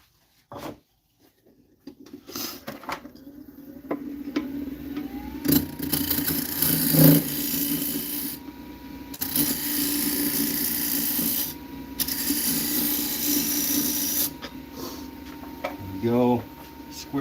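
A wood lathe spins a walnut and cherry lidded bowl while it is squared off, with a fairly loud whirring hum and scraping tool cuts that rise and fall, and a person talking over it.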